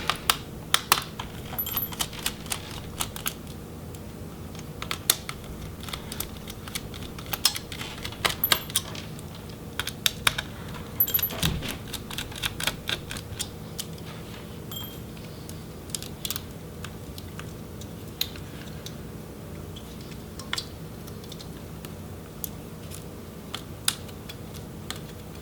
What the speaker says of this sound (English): And then we'll go ahead and remove those remaining 4 heatsink screws.